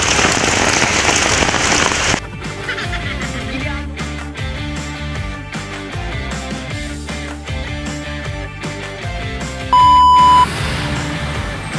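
Heavy rain pours steadily in a short burst at the start, a dense hiss that quickly gives way to loud music with electronic beeps layered on top.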